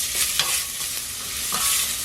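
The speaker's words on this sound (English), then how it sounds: "Gonna saute that onion nice." Chopped red onion sizzles in a hot pan while sauteing for a vegan moussaka, a steady close hiss of frying with a couple of brief stirring scrapes.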